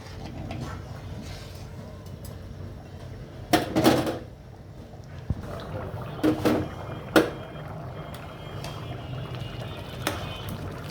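Khichuri with two or three kinds of lentils stirred in a pot, a few soft scraping and clinking knocks of the spoon against the pot over a quiet, bubbling simmer.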